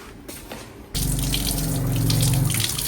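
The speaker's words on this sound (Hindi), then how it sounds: "चलें जी अब इसको पानी लगाते हैं अच्छे से।" Water gushes steadily from a hose or tap onto an air cooler being rinsed and washed, starting abruptly after a second of quieter background and continuing as a loud, close, even splash with no talk.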